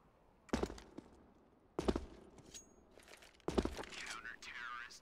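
Gunshots in a competitive Counter-Strike-style esports match, three sharp separate shots spaced over a few seconds with soft game ambience and faint voices between them.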